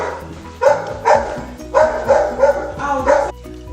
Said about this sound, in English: he starts barking.